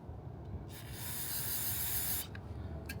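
Brake cleaner sprayed inside a greasy brake drum, one steady close hissing blast lasting over a second, with faint handling noise before and after.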